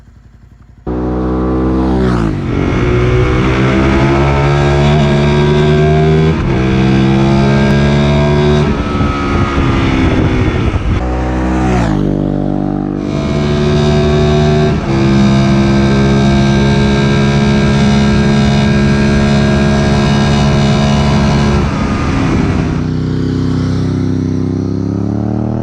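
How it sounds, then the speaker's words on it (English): A retro Ducati motorcycle's big V-twin engine revs loud and close, with sustained throaty roars that ease briefly around the midpoint before climbing again, and no talking. "Let's listen to that big V-twin."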